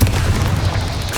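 A Confringo spell explodes in the Hogwarts Legacy video game, a loud, deep rumbling boom that fills the whole short moment.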